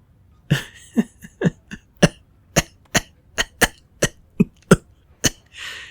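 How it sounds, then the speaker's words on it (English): A series of sharp, separate coughs at a steady rhythm, about a dozen in a row, close and fairly loud, ending with a breathy gasp. "It devolved into a fit of coughing and giggles with coughing winning out."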